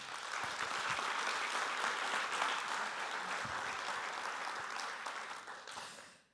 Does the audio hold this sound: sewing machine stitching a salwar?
no